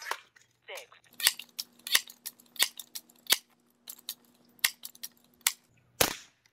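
Crosman 362 .22 caliber air rifle firing during velocity testing: a string of sharp, dry cracks at irregular intervals, close and fairly loud, with a faint steady hum underneath and no talking.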